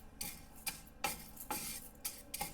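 Moong dal dry-roasting in a pan is stirred with a spoon, giving sharp close scrapes and clicks in an even rhythm of roughly two strokes a second.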